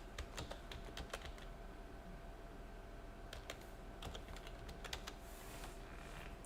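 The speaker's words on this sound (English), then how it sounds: "Let's type this in." Quiet, scattered keystrokes on a computer keyboard come in irregular bursts and pauses, with no talking.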